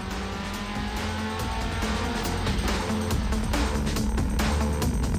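Fast sports car cornering hard on a raceway, a steady, loud, dense engine roar held throughout with no talking.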